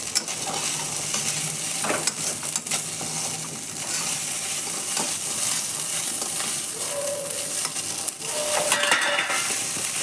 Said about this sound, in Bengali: দেখুন এদিকে মাছ রান্না হচ্ছে